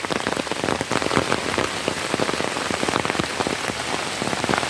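Steady rain pours down in front of a spot with water hyacinth and taro plants, a dense, even patter of drops close by, with no voices.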